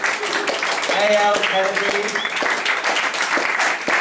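Applause for writers stood up at a gathering, a steady broadband patter of clapping throughout, with a voice reading names over it.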